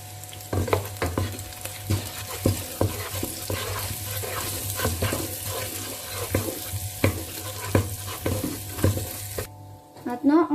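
Spices being stirred into sausages frying in a pan for homemade tacos: steady close sizzle with repeated scraping utensil strokes against the pan, fairly loud, no talk.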